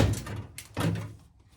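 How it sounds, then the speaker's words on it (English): A punch knocks rivet heads off the sheet metal floor of a Jeep Cherokee and Rambler 4x4 build, producing two heavy metallic thunks close by with a short gap between them and a brief fade afterward. "If you have a rivet head that is poking out above the rivet, rather than center punching that out, you can simply knock the whole thing off."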